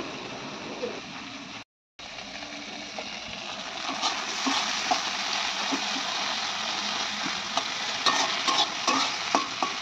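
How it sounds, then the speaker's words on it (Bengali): Taro pieces fry in a pan of hot oil with a continuous crackling sizzle and occasional stirring scrapes. The sound cuts out briefly near the start, then returns louder and steady. "মা এদিকে কচুগুলো ভেজে নিল"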